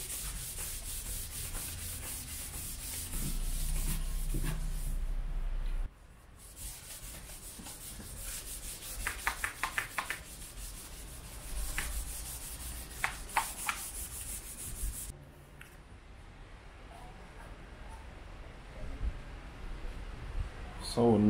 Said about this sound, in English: A little light sand.